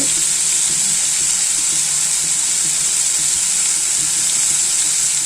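Ingredients for a mutton curry sauté in a pan with a dense, even hiss of frying that stays loud and unbroken throughout, with faint stirring beneath.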